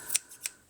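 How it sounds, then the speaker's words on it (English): Two quick snips of fabric scissors trimming excess fabric from a no-sew knotted headband, crisp and close, about a third of a second apart. "And then what I do with my fabric scissors,"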